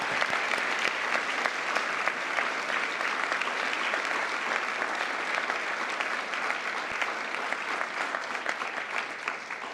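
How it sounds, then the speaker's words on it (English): A large audience applauds for the First Lady at a formal State Department ceremony, steady dense clapping sustained throughout without a break, near and loud with no talk over it. "Please, another round of applause."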